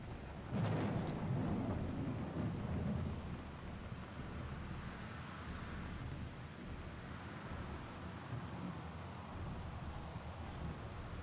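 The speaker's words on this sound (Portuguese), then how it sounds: "devia ter um sistema de som que me calasse a chuva." Steady rain with a low rumble of thunder in the video game Gone Home, a heavy swell early on then a continuous even downpour, no talking.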